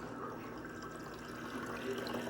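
A power head pump in a 10-gallon BioCube aquarium pushes out a steady stream of water that flows and gurgles at low volume without a break.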